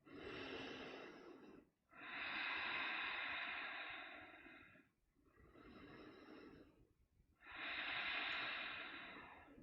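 Slow, deep breaths during a seated chair-yoga forward fold, with four long hissing inhales and exhales close to the mic, each lasting two to three seconds and separated by short pauses, with no talking.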